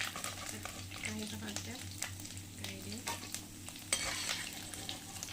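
Small fish fry in hot oil with a continuous crackling sizzle, while utensil scrapes and stirring noises come and go on top.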